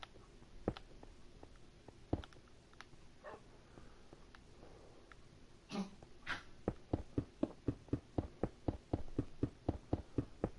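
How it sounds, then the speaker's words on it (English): A dog chokes indoors with a run of dry hacking spasms that start sparse, then quicken into a steady, rapid series, close by and fairly quiet. "Just heard my dog just choking."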